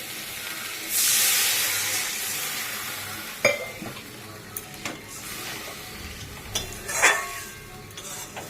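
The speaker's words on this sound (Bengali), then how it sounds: "জল দিয়ে দিলাম।" Water poured into hot oil in a pan for pabda fish curry gives a sudden loud burst of sizzling and steam hiss that slowly fades, followed by soft stirring clinks and scrapes.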